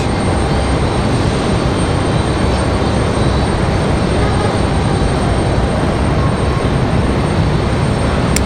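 A Southwest airliner passes near an airport in Raleigh-Durham, a steady, loud broadband jet roar holding level from start to end with no pauses.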